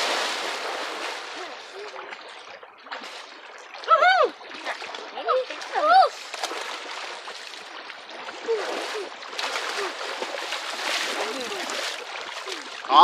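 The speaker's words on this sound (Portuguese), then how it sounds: "agora é só tomar um banho no rio e tirar ele" Water splashes and sloshes as someone bathes in the Xingu River near a village, a close, uneven run of splashes with a few louder surges. A voice is heard at times.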